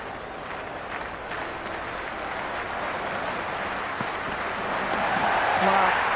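Crowd applause fills a stadium in the cricket video game Cricket 26, a steady broad clatter of clapping that swells toward the end, with a commentator's voice talking over it.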